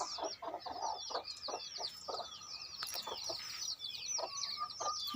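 Chickens and newly hatched chicks clucking in a busy chorus inside a coop, short overlapping clucks and chirpy calls coming close and continuous, with no voices.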